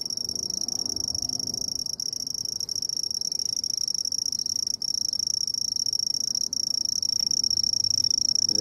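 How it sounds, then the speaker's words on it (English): A red-headed bush cricket, the handsome trig, trills steadily in a garden, a continuous high-pitched insect song running unbroken and fairly loud throughout, with faint background ambience beneath. "the handsome Trig is the common name for the red-headed bush cricket"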